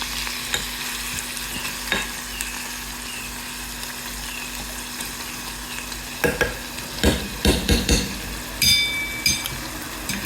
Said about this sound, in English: now we are mixing the onion to our egg.